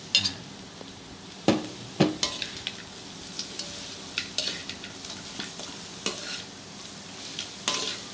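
Pork belly sautéing in a pan, a soft continuous sizzle broken by sharp stirring scrapes and knocks of a utensil against the pan at irregular intervals, close and alone without talk.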